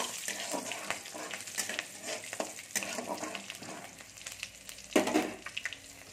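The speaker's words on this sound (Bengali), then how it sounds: "এখানে পাঁচফোড়ন দিচ্ছি আমি। এটাকে আমি একটু ভেজে নেব।" Bay leaf, broken green chillies and panch phoron frying in hot oil: a soft, continuous crackling sizzle with stirring scrapes, rising into a brief louder burst near the end.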